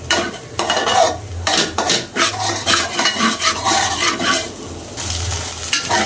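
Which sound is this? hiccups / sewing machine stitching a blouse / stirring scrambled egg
stirring scrambled egg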